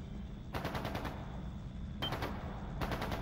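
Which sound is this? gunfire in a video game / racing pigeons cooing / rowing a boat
gunfire in a video game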